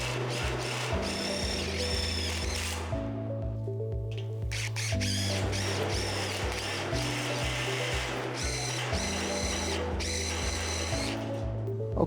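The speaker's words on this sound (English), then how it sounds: "I'm about to fasten this into the bottom chord" Power drill driving fasteners through bridging into a composite joist's bottom chord, stepping through several bursts of rising and falling motor whine with brief stops in between, close and loud with no speech.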